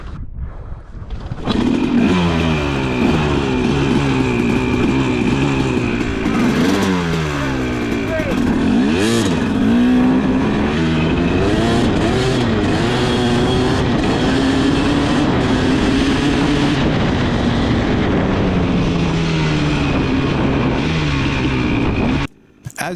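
A KTM 250 SX two-stroke motorcycle drag races a UBCO electric bike, its loud, near engine revving hard and climbing in pitch through repeated gear changes, with people talking at times.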